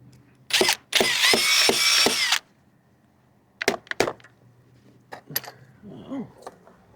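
Short bursts from a brushless power tool working on a part of a 2003 Honda Accord, a long whirring run followed by quick clicks and knocks, close and fairly loud, with voices heard in between.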